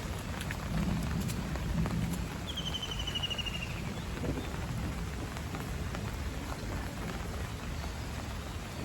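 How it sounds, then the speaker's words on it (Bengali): Heavy morning rain pours down steadily and evenly, a continuous dense patter on surfaces with no talk, fairly faint overall, with a brief bird chirp in the background. "সকালবেলায় প্রচণ্ড বৃষ্টি হয়ে গেল।"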